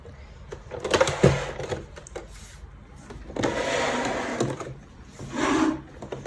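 A sewing machine stitches fabric in three short runs of rapid mechanical whirring, close and moderately loud, with quiet pauses between bursts and no talk.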